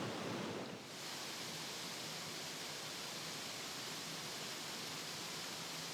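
Side-by-side 20 to 25 foot waterfalls at Twin Falls in Arkansas, where Long Devil's Fork and Big Devil's Fork converge, pour in a constant, even roar of rushing water, with a brief dip near the start.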